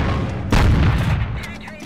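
Tank cannon shot in a video game destroying an IS-3 tank, a single loud booming blast that rings out and decays under crowded battle noise.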